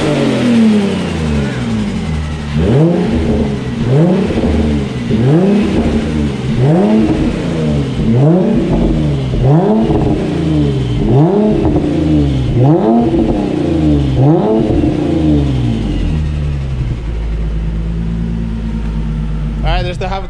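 A single-turbo Nissan 350Z engine revs repeatedly in a rhythmic series of rising and falling pulls, loud and close, with pops between revs before it settles to a lower idle; voices talk over the engine.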